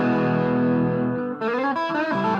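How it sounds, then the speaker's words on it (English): A distorted Kramer Focus VT-211S electric guitar on its bridge pickup plays a sustained crunchy chord, then a few more strummed chords, loud and close. "This is position 1 on the bridge pickup with the crunch tones."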